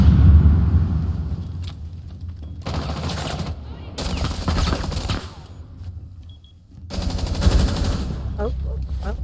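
Gunfire in the Rainbow Six Siege video game: loud bursts of rapid automatic fire in several volleys broken by short pauses, with a commentator talking over the shooting.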